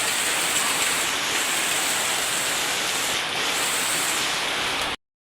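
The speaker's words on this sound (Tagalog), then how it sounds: "Natural na umuulan sa bahay." Steady rain falls at a house in Mindanao, a dense, even wash of hiss that holds at constant loudness for about five seconds before cutting off abruptly.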